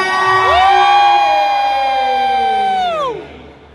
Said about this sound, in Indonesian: Bersama kita jerit kuat-kuat untuk Ana Zobli.